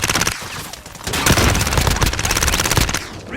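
Loud, close gunfire from a CX-9 submachine gun in Call of Duty Modern Warfare: rapid automatic bursts crackle in quick succession with a brief pause, then a sustained stream of shots.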